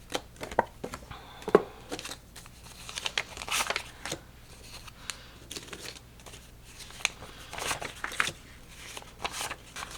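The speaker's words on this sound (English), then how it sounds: "I probably should count actually how many envelopes I do have." Cash budget envelopes being handled up close: paper rustles, crinkles and flaps in quick irregular bursts, steady throughout with no talk.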